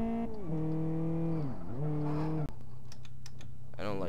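Simulated car engine in Live for Speed, revving and dropping through gear changes with smooth pitch sweeps while drifting, steady and close, then giving way to clicking keys or controls near the end.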